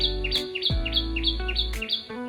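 Birds chirp in a vegetable garden, giving a steady run of repeated high tweets over a low background drone.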